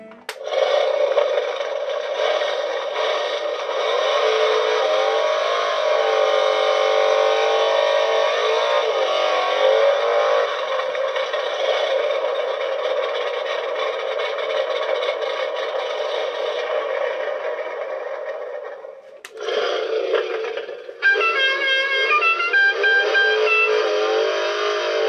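Ramen Racer toy car engine sound effect plays continuously and loudly, a steady buzzing engine drone with slight pitch wobbles, a brief dip near the end, then a higher revving burst.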